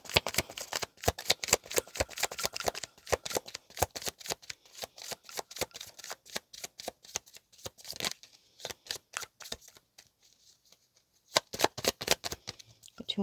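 Tarot cards shuffled and drawn, with rapid, close, crisp riffling bursts in a steady run that pause briefly near the end before resuming. No voice is heard over them.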